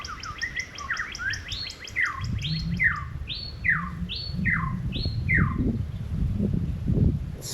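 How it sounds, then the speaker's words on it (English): A northern cardinal calls from a tree in Hawaii, repeating clear downslurred whistled notes in a steady series that slows toward the end, fairly near, over low rumbling wind and ambient noise. "the app thinks it's a northern cardinal too"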